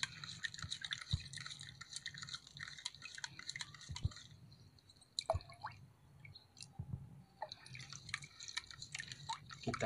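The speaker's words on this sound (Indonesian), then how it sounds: "lalu kita aduk dan larutkan ke dalam 4 liter air bersih" Close, faint liquid sounds of fertilizer being stirred and dissolved into about four liters of clean water, with irregular drips, splashes and squishy sloshing, no voices.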